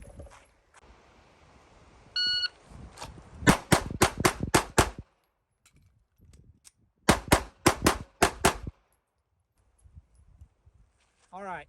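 Glock 48 pistol fired in a shooting drill: two rapid strings of about six sharp, loud shots each, close by, with quieter movement and a brief beep between them.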